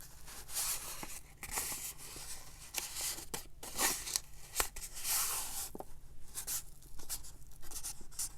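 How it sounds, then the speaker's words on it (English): Paper folded and creased by hand for a junk journal pocket, giving soft rustles and crisp scraping strokes in irregular bursts, close and quiet, with no talking. "So I'm gonna fold it."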